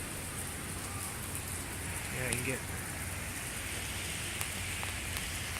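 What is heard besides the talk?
rain during a February thunderstorm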